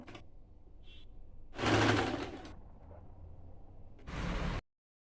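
Domestic sewing machine stitching a belt strip onto the front fabric of a blouse, two separate loud bursts of running motor and needle chatter with quiet handling between, then a sudden stop.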